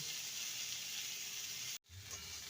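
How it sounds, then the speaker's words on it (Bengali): Onion, tomato and capsicum frying in a pan for chilli cauliflower, giving a loud, steady sizzle with a brief cut-out near the end before the frying noise resumes. "পুরোপুরি ভেজে নেব না যাতে পেঁয়াজ টমেটো ক্যাপসিকাম ক্রাঞ্চি ভাব থাকে সেইভাবেই ভেজে নিতে হবে"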